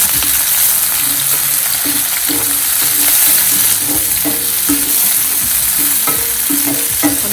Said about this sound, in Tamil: எண்ணெய் காய்ஞ்சதுக்கப்புறம் வெங்காயத்தை போடுவோம். அதோட கருவேப்பிலை போட்டுக்குவோம், பச்சை மிளகாய் போட்டுக்குவோம்.